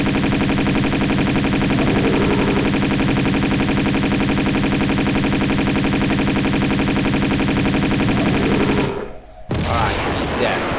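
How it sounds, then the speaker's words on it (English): Rapid automatic Uzi fire in the video game Tomb Raider II Remastered, a loud continuous stream of shots for about nine seconds, a brief break, then a burst of noisy action. "we're going to use the Uzis"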